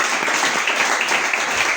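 A church congregation applauding, a dense and steady wash of clapping from many hands that stays even and fairly loud throughout.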